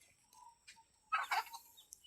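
Village chickens let out of a coop call and cluck in short bursts, one louder squawking call in the middle, fairly close in a quiet rural setting.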